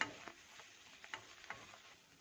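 Semolina being stirred into boiling water in a pot, with faint soft scraping and light ticking bubbles at low volume, no voices.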